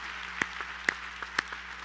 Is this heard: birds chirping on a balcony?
no